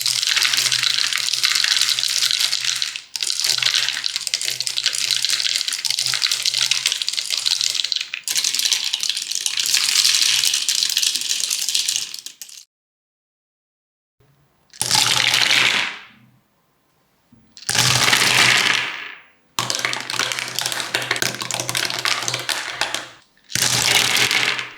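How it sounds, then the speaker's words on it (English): Handfuls of dice rattle down through a dice tower in several separate bursts, each a bright, clattering tumble of a few seconds, with brief silences between the pours. "the sound of falling dice"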